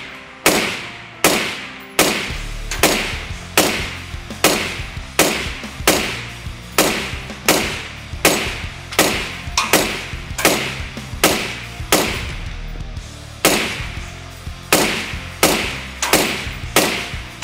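Suppressed 5.56 NATO rifle fire through a Troy Kryptos suppressor, about two shots per second: a long, steady string of close, sharp reports with short decaying tails and no voices.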